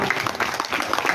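An audience at a district-level ceremony honouring armed forces veterans in Gangapur City breaks into brisk, dense applause, many hands clapping at once in a lively, steady burst.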